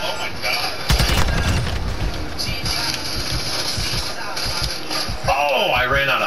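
Video-game gunfire crackles in rapid bursts of sharp shots amid explosions and a dense game soundtrack, loud and close, while players talk excitedly over it.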